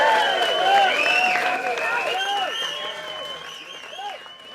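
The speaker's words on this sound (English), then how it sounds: "He deserves a massive round of applause." A crowd claps and cheers, the applause strong at first and then gradually thinning out, with some voices over it.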